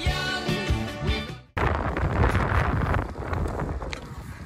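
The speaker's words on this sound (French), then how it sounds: "Je pense que j'avais pas besoin de parler du vent pour vous comprendre." Strong wind buffets the microphone while cycling on the Vélodyssée route from Bordeaux to Nantes, a loud, continuous rumbling roar that drops out briefly, then returns just as strong.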